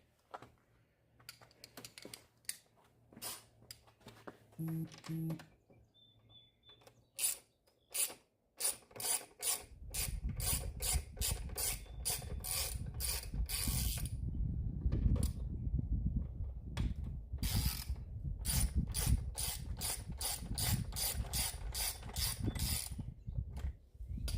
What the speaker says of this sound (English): Now I gotta take the 11mm bolts off the back.